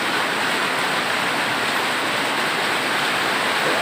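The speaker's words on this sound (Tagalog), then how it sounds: "Yan, tuloy-tuloy na po ang ulan hanggang ngayon." Heavy rain pours down steadily in a flooded area with knee-deep water, a dense, unbroken roar of hiss that stays loud and even throughout, with no voices.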